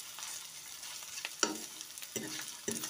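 Mushrooms frying in a pan for a New Year salad, a soft steady sizzle with a few louder stirring scrapes and clatters, close and alone without talk.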